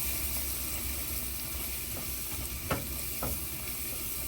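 Spices with chili and cumin powder sizzling as they fry in a pan, a constant dense hiss with a couple of soft stirring scrapes, close up and without speech.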